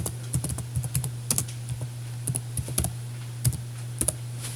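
Someone types a name on a computer keyboard while setting up Windows Server 2016 in Oracle VirtualBox. The keystrokes come in irregular bursts of close, crisp clicks over a steady low hum, with no talking.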